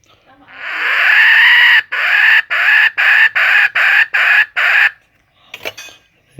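A shrill two-hole bird-call lure imitating a female quail, blown in one long note followed by a run of short rapid chirping bursts, close and loud, then a faint rustle.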